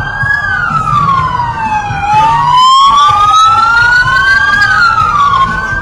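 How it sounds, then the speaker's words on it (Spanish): An emergency siren, ambulance or police patrol, wails loud and close, its pitch sweeping slowly up and down over steady road traffic noise. "Escuchamos ambulancias o patrullas."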